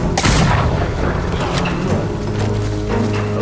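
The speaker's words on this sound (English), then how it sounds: "Gosh, she got a shotgun." Shotgun fire in Ghost of Yōtei, one booming blast at the start followed by a rumbling tail and some mechanical clatter, loud and close.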